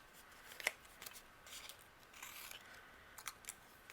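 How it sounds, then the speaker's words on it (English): Paper scissors trimming the left and right edges of a handmade card, a few soft, quiet snips and rasps spread over a few seconds in a hushed room. "then I will trim the left and the right"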